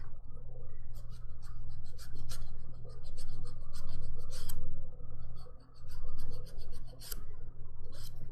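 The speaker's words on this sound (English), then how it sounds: "So I think we've got the main kind of buffing done" Close, scratchy buffing of dip powder manicure nails, a rasping file stroked in quick bursts over a low steady hum, no speech.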